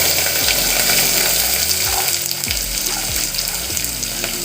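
Garlic and asafoetida fry in hot oil with mustard seeds for a garlic pickle, giving a loud, steady crackling sizzle with several low thumps as they go in.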